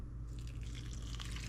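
Water poured into a boxed casserole mix, three cups for two boxes, a steady close trickle and splash running throughout with no voices.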